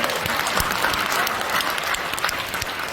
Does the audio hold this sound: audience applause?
yes